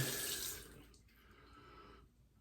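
Water runs and splashes softly as shaving brushes are rinsed in spring water, a faint close trickle that thins partway through, with no talking.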